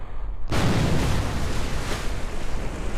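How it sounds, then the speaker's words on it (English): A rocket splashing down into the ocean in Kerbal Space Program: after half a second of quiet, a loud broadband watery roar bursts in and holds steady, rumbling and washing to the end with no talk. "It splashes down."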